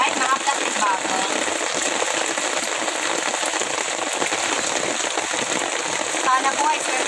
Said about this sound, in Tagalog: Medyo challenging ngayon dahil napakalakas na ulan.